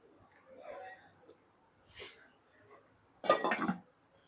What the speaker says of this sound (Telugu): మూత పెట్టుకుంటా